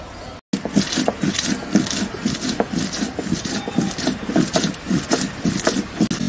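Garlic, cumin and green chilli are ground together on a village grinding stone, a rhythmic run of scraping, rubbing strokes close by, steady and repeated throughout.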